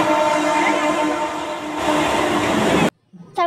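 A train pulls into a station with a loud, close rumble of rolling wagons that stops abruptly, followed by a brief faint voice.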